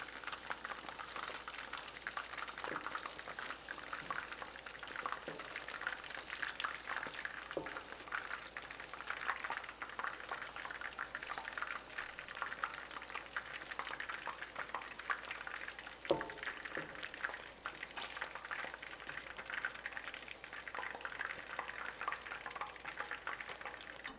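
Food frying in hot oil for Khmer kreung cooking, a quiet continuous bubbling crackle with scattered pops and faint utensil clinks, no talking.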